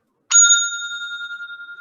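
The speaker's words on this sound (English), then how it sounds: "So at 5 minutes, since we will be having some presentations as well, so we'll be going with this bell sound." A timer bell for a club meeting is struck once, giving a bright, clear ding that rings on with a long, slowly fading tone and no talk over it.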